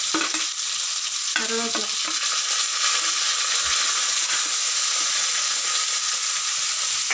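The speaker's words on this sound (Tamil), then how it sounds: "இது வந்து நல்லா பொரியுது." Onion and curry leaves fry in an open pan, a steady dense sizzle and hiss that runs throughout with a brief stir early on, loud and close with no talking.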